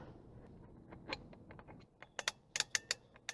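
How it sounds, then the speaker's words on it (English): Cocking mechanism of a Ravin R15 crossbow being cranked, heard as a quick series of sharp, close clicks in the second half after a quieter stretch of low rumble. "Can hear that clicking."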